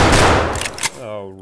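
Shotgun buckshot fire in the video game Escape from Tarkov: a loud burst of booming blasts packed into about a second, followed by a brief voiced sound as it fades.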